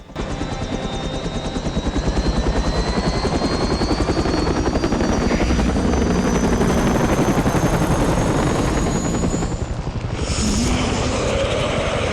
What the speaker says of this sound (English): Thankfully, the helicopter that evacuates him arrives